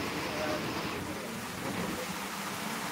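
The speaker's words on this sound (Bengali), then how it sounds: "আরো জোরে বৃষ্টি চলে আসলো" Heavy rain pours in a dense, even hiss that blends with a windy wash, steady and moderately faint throughout.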